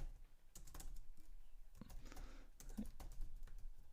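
Python code being typed on a computer keyboard: a steady run of close, crisp key clicks with occasional heavier strokes, heard alone without talk.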